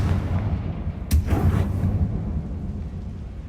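A Confringo spell blast in a fantasy wizarding video game, one sharp crack followed by a booming, rumbling burst that fades over a couple of seconds against a low, constant background drone.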